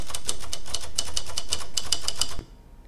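Quick, regular clacks of a typewriter sound effect for animated text run in a steady rhythm of close, crisp strikes for over two seconds, then stop abruptly into quiet.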